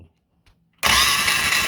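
After a near-silent moment, the starter on a 2013 Polaris RZR 800s suddenly engages with a loud, harsh, continuous whirring grind right up close.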